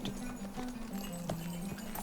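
War steed hooves clop steadily on a road through Bree in Lord of the Rings Online, a quiet, even rhythmic trot heard alone.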